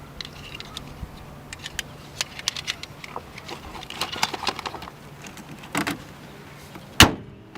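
A car hood is slammed shut after the battery is reconnected, following scattered light clicks and handling noises; one loud, sharp, close bang lands near the end.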